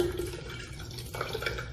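White wine from a Texas winery pours from a bottle into a pitcher for a sparkling red, white and blue prosecco sangria, a steady close liquid stream with brief splashy bursts near the end and no talk over it.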